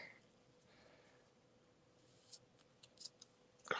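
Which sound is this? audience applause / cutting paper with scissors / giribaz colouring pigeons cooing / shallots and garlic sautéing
cutting paper with scissors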